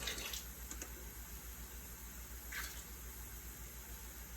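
Tap water runs steadily into a small cup at the kitchen sink, a soft, even rush that stays quiet throughout, with a couple of faint clinks.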